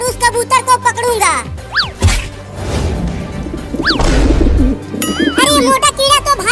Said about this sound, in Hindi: वहाँ एक कबूतर नीचे घूम रहा है